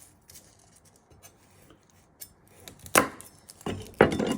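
A knife trims the ends off two garlic cloves on a cutting board, faint light taps at first, then a few sharper close chops and cuts near the end, with no talking.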